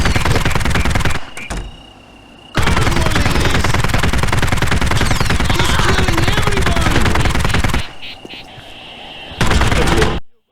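Rapid machine-gun fire and blasts in the Postal Redux video game on Nintendo Switch, loud and dense bursts of continuous shooting broken by brief lulls.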